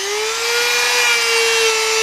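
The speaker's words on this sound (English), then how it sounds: "now we want to get one of those little wire things and see if we can put some scratches in it" A Dremel rotary tool spins a wire brush at speed setting 4 against metal sanded to 2,000 grit, giving a steady, loud, close whine with a harsh scratching hiss for about two seconds, with no talking.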